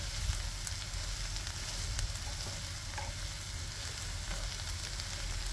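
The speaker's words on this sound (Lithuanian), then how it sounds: "užmečiau svogūnus su česnakais. Kai česnakai kep" Onions and garlic sizzle steadily in a frying pan, a continuous crackling hiss close by with a few brief pops and no voices.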